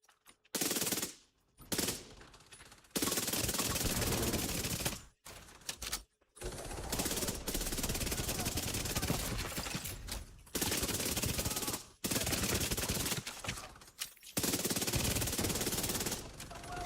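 A submachine gun in The Division 2 rips off long, loud, sustained bursts of rapid automatic fire, broken by brief silent gaps between bursts, close and dominant with no talking over it.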